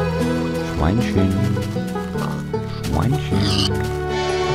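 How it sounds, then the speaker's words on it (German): Pigs in the video game Minecraft give several loud, close grunting oinks, two distinct bursts with a pause between them. "Schweinchen."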